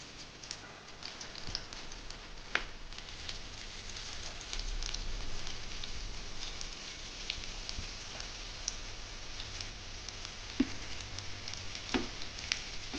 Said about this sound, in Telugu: ఇక్కడ ఆయిల్లో వేస్తున్నాను చూడండి